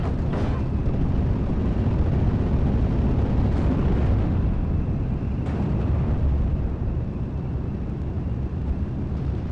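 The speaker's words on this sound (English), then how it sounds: "Bring in my BF-109 off map to shoot down that Tempest." Steel Division: Normandy 44 battlefield with a BF-109 fighter plane attacking a Tempest: a dense, constant rumble of engines and combat, with a few faint sharp cracks in the background.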